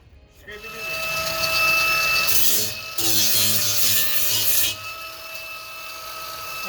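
Epoxy being scraped into place while a front cap is installed on a 2019 Tiffin RV, two sustained rough scraping strokes of a few seconds each, close and fairly loud, with a faint background hum.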